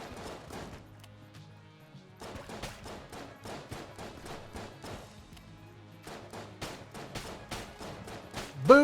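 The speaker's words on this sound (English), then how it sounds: "I'm taking heavy fire." Rhythmic, fast bursts of heavy gunfire in the bullet-hell game Enter the Gungeon come in repeated clusters of sharp shots with short gaps, moderately loud, ending in a louder hit.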